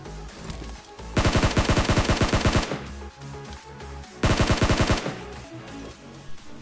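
Automatic gunfire in the PUBG Mobile battle royale game, two loud rapid bursts of shots about three seconds apart, with quieter game ambience and faint noises between them.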